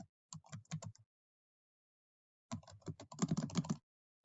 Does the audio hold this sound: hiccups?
no